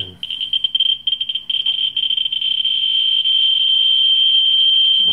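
A steady high-pitched electronic tone from a Ludlum Model 3 Geiger counter near radioactive torbernite and kasolite, stuttering briefly at first and then holding continuous and loud, like a rapid buzz of counts merging into one sound.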